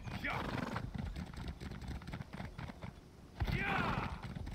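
Galloping horse in the video game Elder Scrolls Online, rapid clip-clop hoofbeats running throughout with two whinnying neighs, one near the start and one near the end, and someone talking over them.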